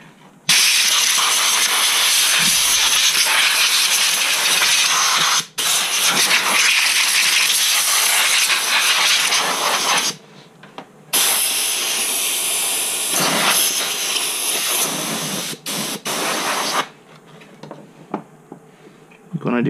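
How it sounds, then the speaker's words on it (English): An air compressor nozzle blasts air to clean an Xbox One console, loud sustained hissing bursts that stop and restart several times with brief quiet gaps between. "I have an air compressor. And with the end of it,"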